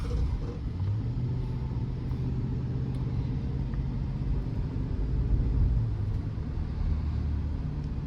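Steady low road rumble from inside a GMC Yukon SLE with a 5.3 V8 cruising out of Damac Hills in Dubai, a continuous engine and tyre drone with no talk.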